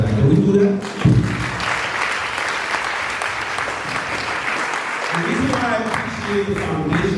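Audience at a speed school graduation ceremony bursts into sustained, loud applause that fills the hall, with some voices and talk faintly audible at the start and end.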